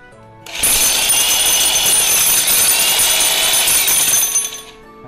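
A Makita 1050W rotary hammer drill for concrete drilling and chiseling runs briefly in a test, a loud, steady high-pitched whine that starts abruptly, holds for about four seconds, then stops.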